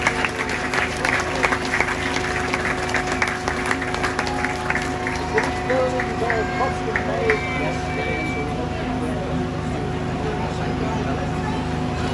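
Spectators clap at a fire brigade demonstration after Santa Claus is rescued and returned to the ground. The applause is strongest early, then thins under someone talking over a loudspeaker amid an outdoor hum.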